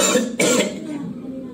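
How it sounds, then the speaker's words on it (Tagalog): A single close cough with a throat-clear quality bursts out of a quiet indoor room, followed by a short second hack and a fading breathy tail. "May ubo ako."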